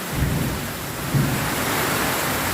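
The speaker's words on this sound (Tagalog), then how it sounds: "lakas na naman ng ulan, may kasamang kilat, kulog" Heavy rain roars continuously, with low rumbles of thunder and lightning rolling underneath; loud, dense and steady throughout, no voices.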